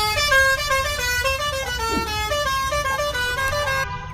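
Several car and bus horns honk almost continuously on a congested Indian road, overlapping tones layered loud and close over a steady rumble of idling traffic.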